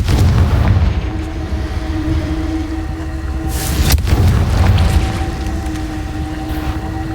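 Explosion from the Confringo blast spell in a video game: a deep, loud rumbling boom with a sharp crack midway, rolling on with low-pitched reverberation, no voices.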